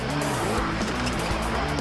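Enduro X vehicle doing donuts at an X Games race in Austin, its engine roaring steadily with tires squealing and skidding, a loud, continuous sound over a crowd-filled setting.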